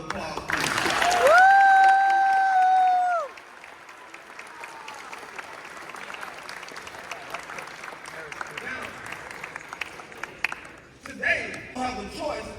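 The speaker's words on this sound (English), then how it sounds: "let's turn around and give your mentors and the staff and volunteers a round of applause, please." Students applauding their mentors, staff and volunteers at a boys' empowerment and leadership summit, a sustained moderate clapping crowd following a brief tonal sound at the start, with scattered louder claps near the end.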